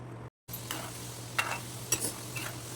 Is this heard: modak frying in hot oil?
yes